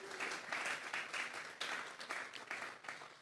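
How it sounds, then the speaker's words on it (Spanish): Applause in a church service honouring the Holy Spirit; a congregation claps in a fairly faint, brief burst with uneven rhythm. "Vamos a darle un fuerte aplauso al Espíritu Santo esta noche."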